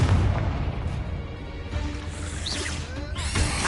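Explosive spell blasts from Hogwarts Legacy boom with a heavy low thump, followed by swooshing bursts and a second impact near the end, loud and close.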